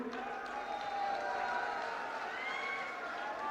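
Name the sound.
crowd clapping at an election rally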